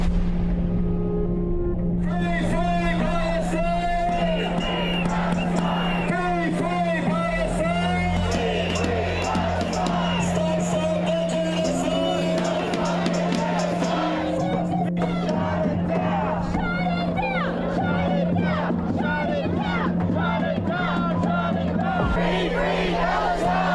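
A large crowd of protesters on a Sydney bridge roars and chants continuously, dense overlapping voices and cheers close by, with a steady low drone running underneath throughout.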